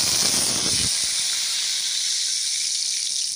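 Drumstick stalks sizzling in hot oil, a steady bright hiss that runs loud and close throughout, with a brief lower bubbling spatter at the start before settling into even frying.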